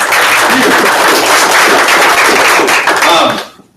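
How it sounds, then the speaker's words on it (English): A sales meeting crowd gives Debbie a round of applause: loud, dense clapping fills the room steadily, then quickly dies away at the very end. "Give Debbie a round of applause."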